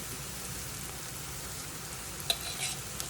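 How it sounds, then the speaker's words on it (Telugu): Two tablespoons of ginger garlic paste fry with translucent onions in a pan for chicken fry, giving a soft, fairly quiet sizzle with a sharp clink of a spoon midway and light stirring. "ఒక 2 table spoon of ginger garlic పేస్ట్ని వేయాలి"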